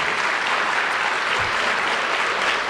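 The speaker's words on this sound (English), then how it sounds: "under the leadership of your Principal Ramirez, let's give another round of applause to your principal" A school audience applauds their principal at a school recognition event, with steady, dense clapping filling the room at an even level throughout.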